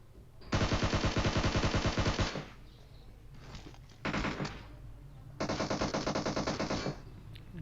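Automatic gunfire in PUBG Mobile comes in two long, loud, rapid bursts with a shorter burst between them, close by, and quieter gaps separate the bursts.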